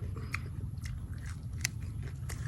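Oysters topped with crispy fried shallots being eaten up close, with sharp crunchy bites repeating at irregular intervals over steady chewing and mouth noise.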